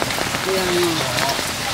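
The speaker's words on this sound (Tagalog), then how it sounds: "Malabas dahil umuulan guys." Steady rain falls on a surface as a continuous broadband hiss, with a faint voice briefly audible beneath it.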